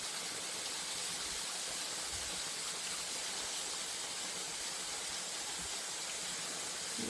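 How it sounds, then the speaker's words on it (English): A small waterfall at Red River Gorge, Kentucky pours in a steady broadband hiss and rush, continuous and fairly distant, with no talking. "This is a waterfall."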